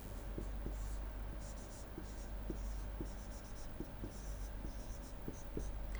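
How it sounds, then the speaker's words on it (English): Chalk or marker writing on a board during a physics lecture on ray theory, a steady series of short taps and scratchy strokes at close range with a faint hum beneath and no talking. "So, I am writing this here."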